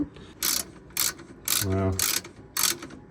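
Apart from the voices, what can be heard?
ratchet tightening bolts on Mustang Mach 1 exhaust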